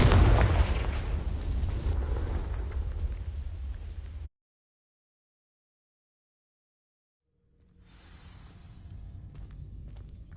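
A Confringo fire spell explodes on dry vines in Hogwarts Legacy on PS5 with a loud, booming burst that roars for a few seconds and cuts to silence, then a fainter rumble rises afterwards.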